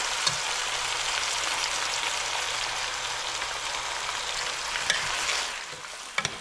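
A spoon stirs curry chicken in a pot over steady, close frying hiss, with broadband sizzle throughout and a couple of light scrapes and taps near the end.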